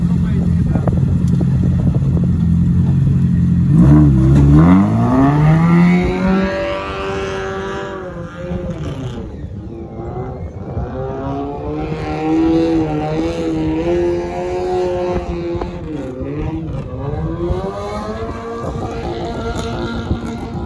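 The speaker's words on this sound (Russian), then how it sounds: "Хороший движок у них." An off-road trophy competition vehicle's engine revs and labors at close range, rising and falling in pitch through repeated throttle bursts, with a steady drone between them.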